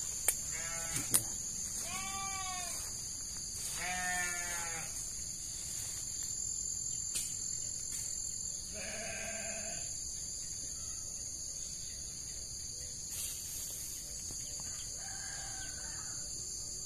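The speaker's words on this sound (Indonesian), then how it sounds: "Dengar suara kambing ya. Itu ada kandang kambing di situ." Goats bleat in a pen in a rural coffee-growing area, several wavering calls spaced out over steady insect chirring, with a rooster-like call or another animal faintly mixed in.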